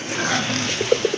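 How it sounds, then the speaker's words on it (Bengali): Loud rushing noise gives way to a quick series of short, low cooing notes from a pair of red Rajgolla pigeons near the end. "দেখেন এক জোড়া রাজগোল্লা কবুতর, টকটকে লাল কবুতরের"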